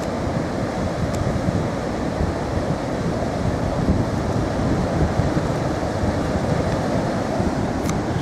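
Strong wind sweeping across the Harlech sand dunes on the coast, a loud, steady roar and buffet that never lets up, with no voices.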